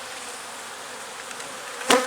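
Honeybee nurse bees from a brood frame buzzing steadily as they are shaken into a split hive, a close, even hum that swells with a brief louder burst near the end.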